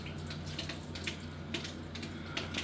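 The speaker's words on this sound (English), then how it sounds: "AC's leaking upstairs, and we got water just pouring out of the ceiling." Water from a leaking upstairs air conditioner pours and drips through the ceiling of a Clearwater condo, a steady rushing splash with scattered sharper drip impacts, close and continuous with no talking.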